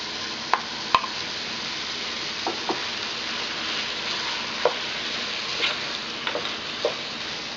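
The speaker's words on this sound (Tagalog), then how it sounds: "Hahaluin lang natin, then lulutuin lang natin to for a few minutes." Liver cooking in a hot pan with ginger, a steady sizzle under scattered clicks and scrapes of a utensil stirring the pieces, moderately loud and close, with no talking.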